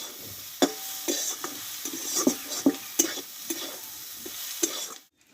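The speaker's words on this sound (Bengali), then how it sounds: "মশলার সঙ্গে কিন্তু ডিমটা ভালোভাবে কষিয়ে নিয়েছি" Egg being fried and cooked down with masala spices in a pan: a steady close sizzle with repeated scraping stirs and spatula knocks, and no voices.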